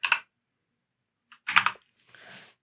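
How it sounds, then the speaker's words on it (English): Short bursts of clicking on a computer keyboard as a player username is entered, a few quick keystrokes, then a pause, then another cluster of clicks, close and clear in a quiet room. "And then we're going to type in a player username in this case."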